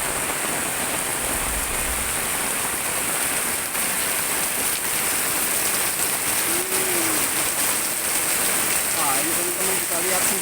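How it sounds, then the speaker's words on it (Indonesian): Heavy rain pours steadily over flooded streets in Cikarang, a loud unbroken roar of water, with faint brief vocal sounds surfacing near the end. "Teman-teman bisa lihat kondisinya, hujannya berat-berat"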